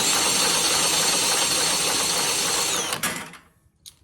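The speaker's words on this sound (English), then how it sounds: "I'm going to be using this bar drill here" A bar drill whirs steadily at high speed for a few seconds, spinning a small engine, then cuts off, leaving a couple of faint clicks.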